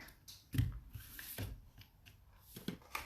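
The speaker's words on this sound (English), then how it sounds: "I need ribbon scissors. Snip that away." A few quiet, close snips and rustles of ribbon scissors cutting thin paper material, with soft handling noise between the cuts.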